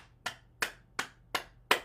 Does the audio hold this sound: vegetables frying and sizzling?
no